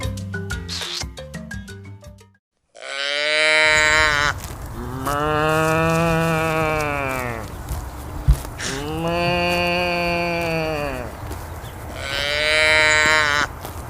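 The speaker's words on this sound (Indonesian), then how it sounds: "Sapi." On a farm, a cow moos loudly and close by in several long, drawn-out calls separated by short pauses, after a brief burst of plucky music at the start.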